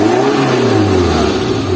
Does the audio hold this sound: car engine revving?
yes